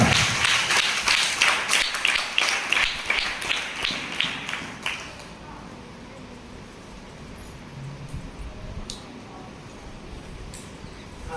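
A church congregation claps loudly in fast, rhythmic bursts during a Good Friday service, then the applause stops abruptly and the room falls quiet apart from faint background noise.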